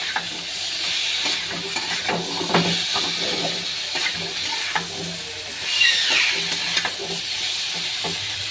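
Ginger, garlic and onion paste frying in a pan, giving a steady soft sizzle with occasional stirring scrapes and clinks throughout, close and moderately loud, with no talking.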